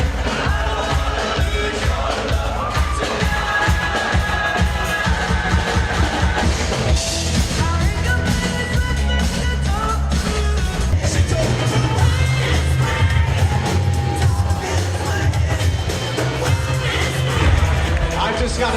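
Wedding reception crowd at The Palace singing along loudly over dense, driving music, with cheering and yells rising through the sustained, full-volume mix.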